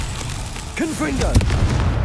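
Confringo blasting spell in the game Hogwarts Legacy: a brief spoken voice is followed by a sharp, booming burst that fades into a low rumble.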